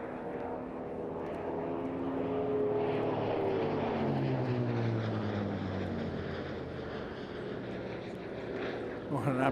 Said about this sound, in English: It's the sound of an aircraft that really means business